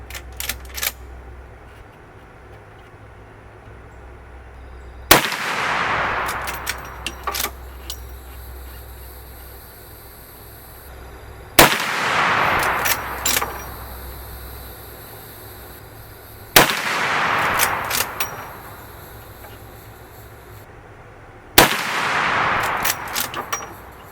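Four loud, sharp rifle shots from a Winchester 1892 lever-action firing 240 grain jacketed soft point rounds, each blast booming close by and ringing out. The shots are spaced several seconds apart over a low steady background hum.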